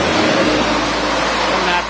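Vehicles, including trucks, pass on a wet road, making a loud, continuous roar and tyre hiss that stays close and steady throughout.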